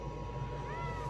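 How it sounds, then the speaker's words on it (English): A cat behind a door gives a short, soft meow once or twice over steady background hum, fairly faint and close by. "There was a kitty behind there the whole time."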